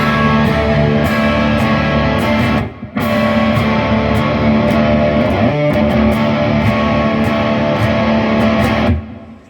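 Loud, heavily distorted electric guitar plays a thick, saturated riff through Distortron, Saucy Box and Cosmonaut pedals, broken by a brief pause before ringing out and stopping.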